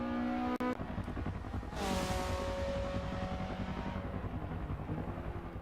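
A Mazda race car circles a track, its engine a loud, continuous drone that climbs to a higher pitch as it accelerates through a gear change partway along, close and steady throughout.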